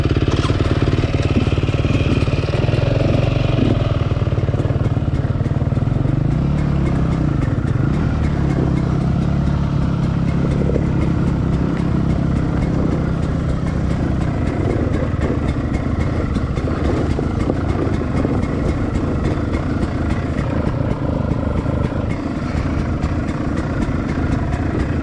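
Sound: motorcycle going downhill with clutch and back brake

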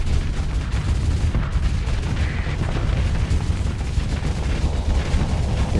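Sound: spaceship weapons firing, from video game Starsector

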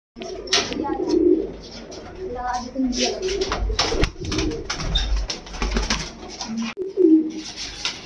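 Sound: pigeon cooing

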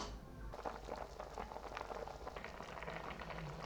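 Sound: chicken stew boiling uncovered in pot

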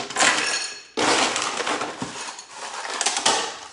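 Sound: handling a hurricane glass, glassware clinking

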